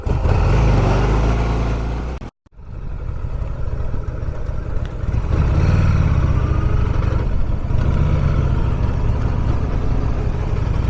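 A 2001 Harley-Davidson Sportster 1200S pulls away hard, its loud engine revving up from idle, dropping out for an instant, then roaring on with a steady, heavy rumble close by.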